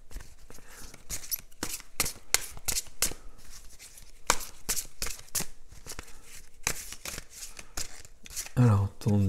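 Tarot cards being shuffled by hand at close range, a rapid series of crisp riffling and flicking bursts in irregular rhythm, with a voice talking briefly near the end.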